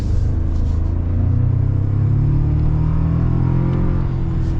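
A 2024 Toyota Tacoma's turbocharged engine with an 8-speed automatic accelerates in Sport Plus mode, giving a steady, loud, low rumble heard from inside the cab with no talk.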